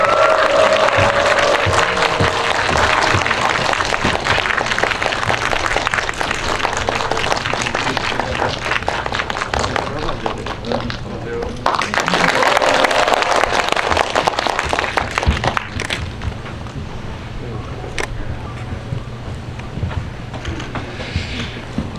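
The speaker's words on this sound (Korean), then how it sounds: "예, 계속 박수 쳐주십시오." Sustained applause from a cinema audience greeting the Harbin film cast, including Hyun Bin, Jo Woo-jin and director Woo Min-ho, with steady clapping that swells twice before gradually thinning toward the end.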